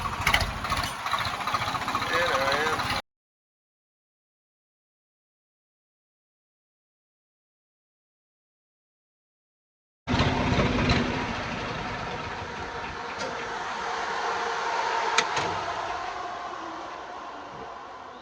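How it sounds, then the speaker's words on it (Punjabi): A tractor's diesel engine idles with a steady rumbling chug, cut off by a long silence, then the engine resumes with a few clanks. "ਟਰੈਕਟਰ ਦੱਸੇ ਕਿਵੇਂ ਲੱਗਦਾ ਆਵਾਜ਼"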